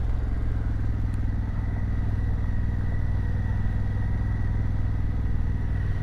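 A motorcycle with an Akrapovič exhaust runs steadily at a low, throaty idle-to-cruise note, its rumbling exhaust continuous and close throughout with no voices.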